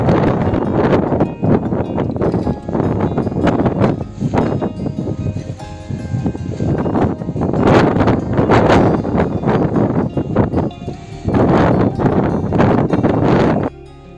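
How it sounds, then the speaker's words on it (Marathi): Strong wind buffets the microphone on a hilltop fort, coming in loud roaring gusts that swell and drop repeatedly, close and harsh, with no speech. "खूप जोराचा वारा सुटलेला आहे."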